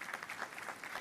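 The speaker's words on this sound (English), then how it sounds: "Are you clapping for the Nana Chancellor for me?" Audience at a university investiture ceremony applauding, a faint, distant, continuous patter of many hands clapping with no speech on top.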